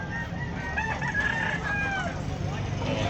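A rooster crows a single drawn-out cock-a-doodle-doo close by in a backyard poultry setting, over a steady background of murmur and other fowl.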